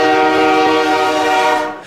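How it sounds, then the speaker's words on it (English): Loud, sustained train horn blast played at a Vikings football game, a steady multi-tone chord held for about two seconds before cutting off, alone without talk. "Let's play a train horn."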